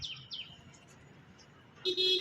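A flock of house sparrows chirps in short, bright calls: a couple of quick chirps at first, scattered faint twitters, then a louder burst of chirping near the end.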